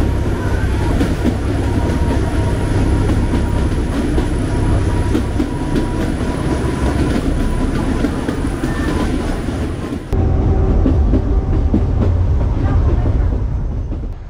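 Kangra Valley Railway train running through a long tunnel, a loud, steady rumble of wheels and carriages that holds continuously before the tone abruptly changes near the end.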